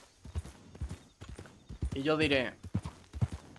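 Horse hooves clip-clop in the Red Dead Redemption roleplay game RedM, a steady trotting rhythm beneath someone talking in Spanish.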